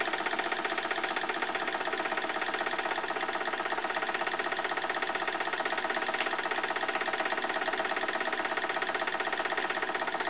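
A Jensen 75 toy steam engine powering a small hoist runs at low throttle, producing a steady, even mechanical chuffing and knocking that holds constant throughout with no talk.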